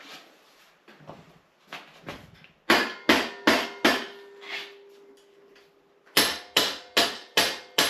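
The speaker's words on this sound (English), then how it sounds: "I think that's going to need a couple of smacks to free it off." A hammer strikes a seized quill stem on a vintage Raleigh Superbe bicycle, giving a string of sharp, close metallic blows in two quick bursts, with lighter knocks and one ringing tone between them.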